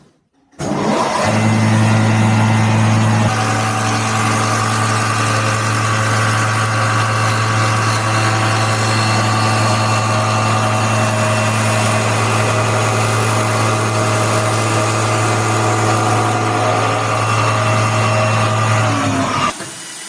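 A milling machine routes a pattern into a wooden workpiece following a template, giving a loud, steady motor whine with a strong hum that runs evenly for nearly twenty seconds before cutting off.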